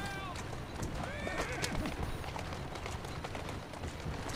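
A horse whinnies loudly and clip-clops at a gallop in the Assassin's Creed Syndicate video game, with game sounds and busy background noise throughout.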